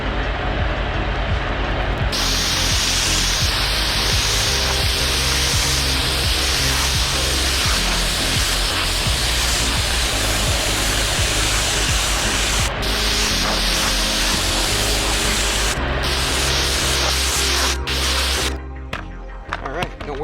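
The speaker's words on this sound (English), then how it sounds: "I'm going to take my pressure washer and I'm going to spray it out" A steady, loud hiss of high-pressure water from a pressure washer with a 40-degree nozzle spraying out a Honda CR-V interior continuously, with brief breaks near the end as the spray pauses.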